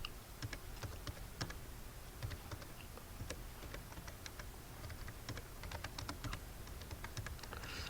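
Keys pressed on a TI-84 graphing calculator while entering numbers, a quiet run of small irregular clicks and taps, close and alone with no speech.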